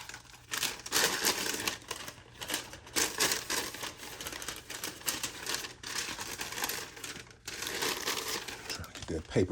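Paper stuffing crinkling as it is pushed back into an Air Jordan 1 Low 85 Neutral Grey shoe, loud close bursts of rustling and crumpling that come and go with short pauses.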